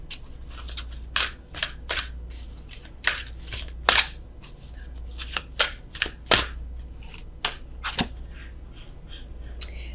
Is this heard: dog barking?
no